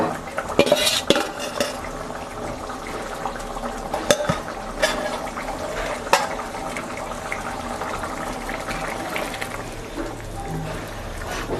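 A utensil scrapes and clinks against a pan while duck eggs are stirred for a curry, with irregular metallic taps and clatter over a steady background hiss, and no talking.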